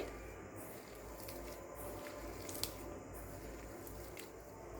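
Hands knead and squish rice pakora batter seasoned with turmeric, salt and garam masala, soft wet squelching in irregular pulses, quiet and close with no talking.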